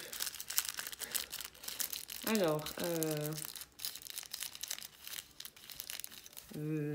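Purple paper packaging without tape crinkles and rustles in repeated bursts, close by, while a person talks intermittently over the handling.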